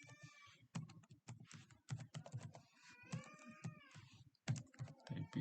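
Fingers type on a computer keyboard in quick, uneven runs of soft clicks, broken by short pauses, with faint tonal sounds drifting in between the keystrokes.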